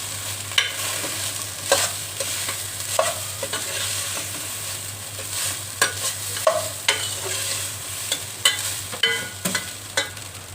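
Egg masala rice stirred in a pan, a spatula scraping and clacking in repeated irregular strokes over a steady low sizzle and hum, close and fairly loud with no voices.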